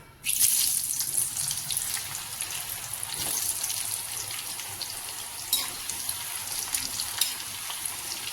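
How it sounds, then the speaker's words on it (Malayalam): Mango pieces frying in hot oil for a fried mango pickle give a steady, close sizzle. The bubbling crackle runs without a break, with a few sharper spits along the way and no voices. "ഇനി നമുക്ക് മാങ്ങ കുറേശ്ശെ ഇട്ട് പൊരിച്ചു വരാം"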